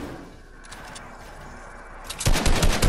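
Fortnite gunfire erupts after a quieter stretch of game ambience, with a burst of rapid, loud repeated shots in a fast automatic rhythm close up.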